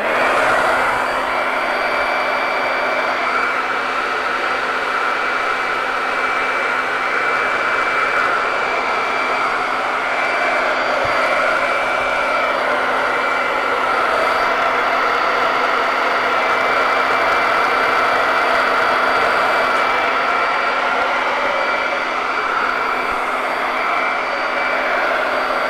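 A dryer runs steadily and loudly on a wet surface, a continuous whirring blow with no breaks and no talk over it.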